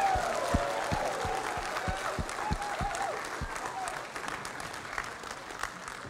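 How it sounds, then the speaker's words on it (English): Applause from an audience at a school Christmas concert fills the room, steady clapping that gradually thins toward the end, with a faint murmur of voices underneath. "Let's give them a round of applause tonight."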